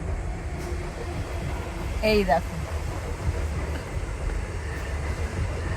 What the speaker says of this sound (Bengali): এই যে এটা হচ্ছে তিন নাম্বার প্ল্যাটফর্ম ট্রেন ঢুকছে দেখো